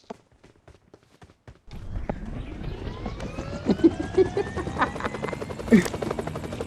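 A helicopter's rotor chop in PUBG builds from faint ticking into a steady rumbling drone, with scattered clicks and game sounds layered on top.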